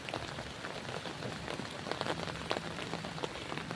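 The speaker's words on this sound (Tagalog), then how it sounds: "Pero umuulan" Steady rain falls on a surface in rural Ilocos Norte, a dense continuous patter with scattered louder drops close by, and no voices over it.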